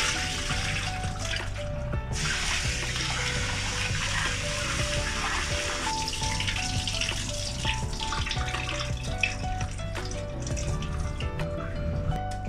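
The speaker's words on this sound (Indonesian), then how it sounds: "So kita kena basuh kacang dal ni dulu." Soaked dal lentils are rinsed under a running kitchen tap, with a steady loud stream of splashing water continuing throughout and no talking.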